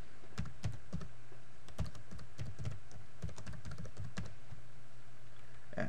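A name being typed on a computer keyboard while defining a PowerBuilder DataWindow object: steady, close key clicks in uneven bursts of several taps with short pauses, continuing for about six seconds with no talking.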